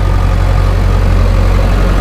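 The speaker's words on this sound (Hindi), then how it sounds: "भाइयों इसकी पावर दिखाएंगे, टाइगर भाई ही ड्राइव करेंगे आज ट्रैक्टर को, कैसी पावर लगाता है।" An Escort 355 tractor engine runs loud and close under heavy load, a dense, steady low rumble with constant vibration and no pauses or talk.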